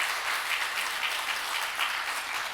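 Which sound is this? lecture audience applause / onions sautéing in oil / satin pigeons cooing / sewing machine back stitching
lecture audience applause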